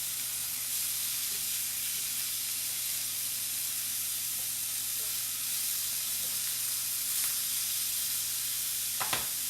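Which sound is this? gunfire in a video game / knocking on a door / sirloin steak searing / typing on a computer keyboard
sirloin steak searing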